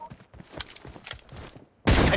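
M24 sniper rifle fire in BGMI, with sharp shots and mechanical clatter over the first part, then a very loud, dense blast of gunfire right at the end.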